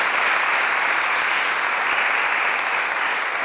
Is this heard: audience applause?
yes